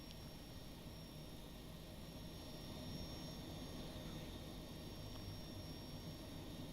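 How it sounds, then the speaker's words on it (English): Boeing 757 jet engines running after start-up in the X-Plane 12 flight simulator, a steady, fairly quiet broadband roar with a faint high whine, constant throughout with no talking. "Those engines don't sound loud."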